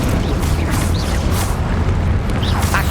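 Confringo blast spells burst in Hogwarts Legacy gameplay, a loud rumbling explosive roar filling the whole stretch, with whooshing and crackling magical effects layered on top.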